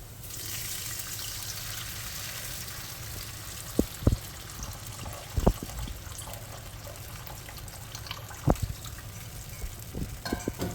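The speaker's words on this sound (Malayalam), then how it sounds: "ഇനി അതിലേക്ക് പുളി പിഴിഞ്ഞെടുത്തത് ഒഴിക്കാം" Squeezed tamarind water poured into a simmering ginger curry for an Onam feast, a soft continuous liquid trickle with a few sharp clinks of the vessel, close and fairly quiet.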